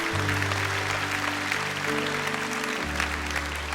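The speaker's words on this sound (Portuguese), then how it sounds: "Vamos dar uma grande salva de palmas a essas pessoas maravilhosas, corajosas e cheias de amor." Church audience applauding in a steady, moderately loud wash of clapping, with a low sustained musical tone humming underneath.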